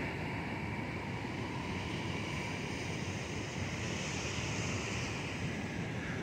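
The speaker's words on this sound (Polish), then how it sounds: "Proszę, jakie kaskady." Cascades at the top of Ribbon Falls rush steadily in a dense, unbroken roar of water, loud and close throughout, with no voices.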